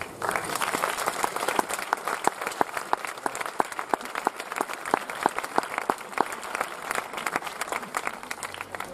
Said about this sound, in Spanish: quiero que se regalen un aplauso para poder presentar ya a Mario Pacheco